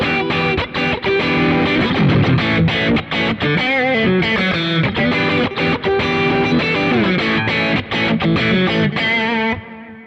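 Heavily distorted, high-gain electric guitar through a Kemper amp, playing dense chords and riffs, loud and continuous with no voices, cutting off near the end.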